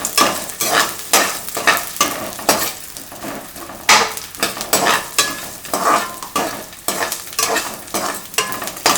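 Tamarind, green chillies, garlic and ginger being sautéed in a pan, a loud rhythmic scraping and stirring with steady sizzle underneath, strokes repeating roughly twice per second, close up.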